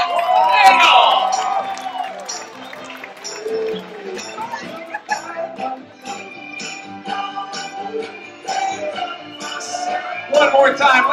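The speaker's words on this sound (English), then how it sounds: "One more time, one round of applause to our bride and groom, Mr. and Mrs. Scott Nagel!" At a wedding, guests cheer, whoop and shout for the bride and groom in lively bursts, a crowd celebrating with loud voices rising and falling, while people shout and talk over the noise.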